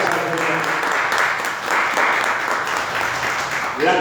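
A church congregation breaks into applause during a Spanish-language sermon, a dense steady clatter of many hands at close range, held fairly evenly throughout with a slight rise near the end.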